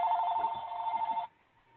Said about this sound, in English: we got somebody's phone ringing